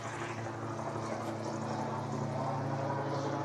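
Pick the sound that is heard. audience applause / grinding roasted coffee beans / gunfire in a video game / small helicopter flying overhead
small helicopter flying overhead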